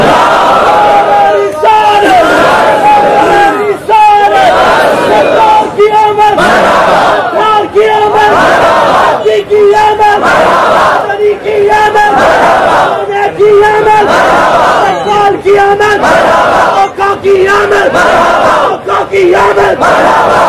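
Large crowd at a Hindi-Urdu religious gathering roars a rhythmic chanted response to a Nara-e-Takbeer call, loud collective voices rising in repeated surging bursts that fill the space.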